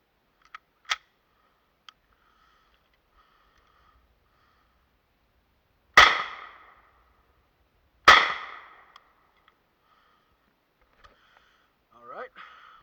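Two loud, sharp rifle shots from a Chinese Type 56 firing 7.62x39 full metal jacket and hollow point rounds, spaced about two seconds apart with short ringing decay, plus faint clicks of handling before and after.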